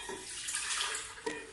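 Tap water running steadily into the cooking jug of an Optimum Evolve smart blender, a continuous close splashing rush filling the jug about three-quarters full, with no talk.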